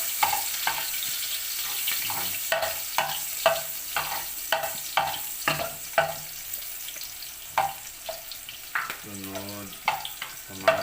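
Onion and garlic sauté in a pan with a low background sizzle, broken by regular scraping stir strokes of a spatula, and a short burst of voice comes near the end.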